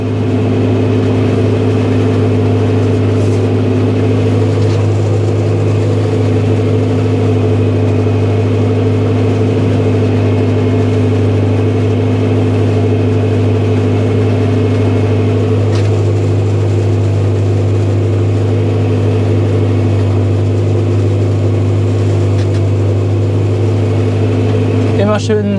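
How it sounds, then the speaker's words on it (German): Sugar beet harvester working through a muddy field, its engine droning loud and steady throughout with a strong low hum and gentle revving under the load, while people talk over it. "die Räder vom Roder drehen sich, er sackt jetzt nicht zu stark weg"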